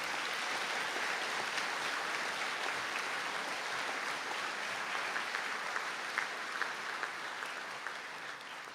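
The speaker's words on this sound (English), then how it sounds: "Can you please give our master graduates a round of applause?" A large audience at a graduation conferring ceremony applauds steadily, dense clapping sustained throughout at an even level before tapering slightly at the end.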